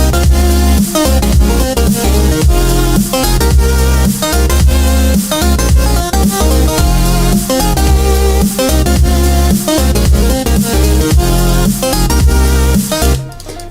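A layered synthesizer melody built with the Nexus synth plays loud and dense over a steady pounding beat and thick bass, repeating without a break until it cuts off abruptly at the end.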